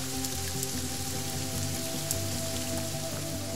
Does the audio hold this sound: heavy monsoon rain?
yes